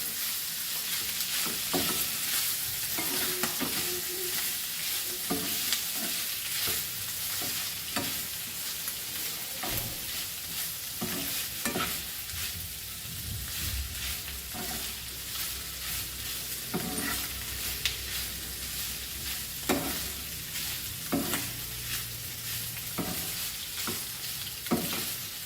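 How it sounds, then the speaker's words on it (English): Continuous sizzling of masala frying in a pan for Goan pork sorpotel, with occasional scraping and stirring knocks, close and steady for the whole stretch. "Let's fry this nicely."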